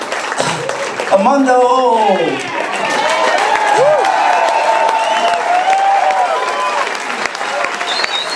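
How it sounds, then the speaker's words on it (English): Audience applause and cheering at a jazz club concert, a loud crowd clapping throughout while someone speaks over it and a voice calls out a name. "everybody a round of applause"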